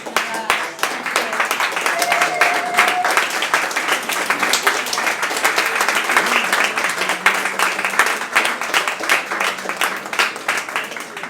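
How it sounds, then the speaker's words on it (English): A standing audience at the Occupy Inauguration PIP Summit gives a panel a long round of applause, crisp individual claps layered into sustained clapping for over ten seconds, with scattered voices and cheers mixed in. "Can we all stand up and give this panel a round of applause"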